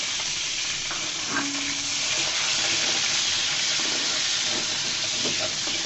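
Onions dropped into hot oil in a pot, frying with a dense, even sizzle and crackle, close and constant, with a few light clinks of a utensil and no talk.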